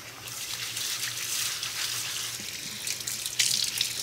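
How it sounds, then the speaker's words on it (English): Rice is rinsed in a sieve under a running kitchen tap: a steady, close, full splash of water that holds for the whole stretch and gets slightly louder near the end, with no talking. "So I'm just gonna put it in a sieve like that and rinse it."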